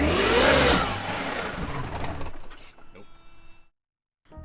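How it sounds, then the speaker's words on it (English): A supercharged Mercedes-Benz engine idles roughly up close, a loud, uneven mechanical rumble that fades out and then drops to silence, with a voice talking over it. "It's idling weird, and it falls on its face anytime we rev it."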